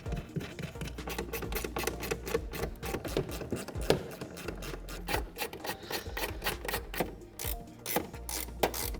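Ratchet driving the taillight mounting hardware back on a Ford Mustang, a steady close rasping clicking in fast continuous strokes for several seconds, faint and alone without talk.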